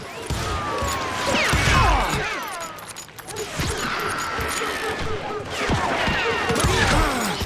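Gunfire in the Western shooter Call of Juarez: Gunslinger comes in loud bursts and rattling volleys, mixed with crashes and other game sounds and set against music and dialogue.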